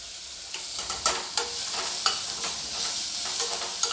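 Onion, ginger, green chili and garlic fry in a hot pan with a steady, crackling sizzle, broken by scattered sharp pops and the scrape of stirring.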